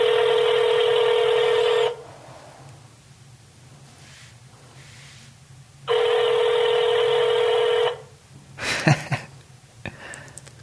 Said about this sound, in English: So I'm gonna hit the ring ring. And I'm going to hit the speaker button.